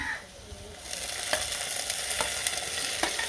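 Banana pieces sauté in a hot pan with a loud, continuous sizzle close by, sharpened by a few brief crackling stirs and no voices.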